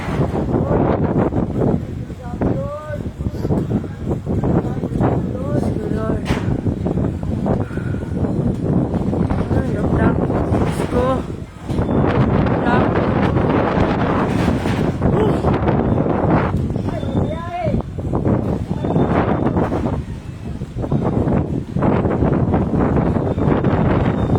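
Strong wind roars steadily against the microphone throughout, with people talking under the constant blustery rush.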